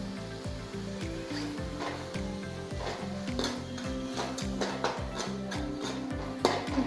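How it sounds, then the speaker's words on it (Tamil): Mint and coriander sauté in a kadai for salna, a steady sizzle of frying with repeated scraping and stirring strokes of a spoon against the pan, close up and without talking. "இதையும் சேர்த்து வதக்கிட்டு கூடவே நான் கொஞ்சம் கொத்தமல்லி எடுத்து வச்சுருக்கேன், அதையும் சேர்த்துக்கலாம்."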